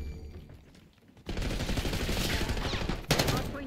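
Heavy gunfire in Call of Duty: Black Ops 6, including sniper shots, bursts in loud and close, packed with dense rapid reports and then a sharp louder crack near the end after a brief quieter lull.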